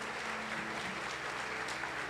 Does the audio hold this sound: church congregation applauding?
yes